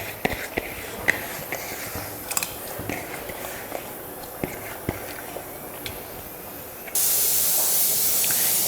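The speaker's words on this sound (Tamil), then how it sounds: "இப்போ வந்து நல்லா கொதிக்க ஆரம்பிச்சிருச்சு பாருங்கள்." A pot of water with rice comes to a boil, giving soft bubbling pops and a constant hiss that swells into a louder, rushing hiss near the end.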